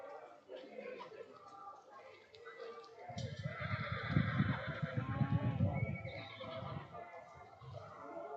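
A 14.2-hand, seven-year-old chestnut mare whinnies repeatedly at a Western Australian horse sale, her loud, shaky neighs rising over a steady background of voices and crowd noise.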